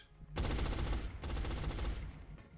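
Rapid automatic gunfire in XCOM: Enemy Unknown, two long loud bursts of dense shots separated by a brief dip, close and forceful with no talk over it.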